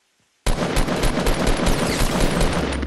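A sudden, sustained burst of loud, rapid rifle fire in Fortnite breaks the silence and rattles on continuously at close range until the end.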